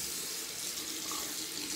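Steady, full stream of tap water runs into a sink while a toothbrush is rinsed, a close, continuous hiss with no pauses.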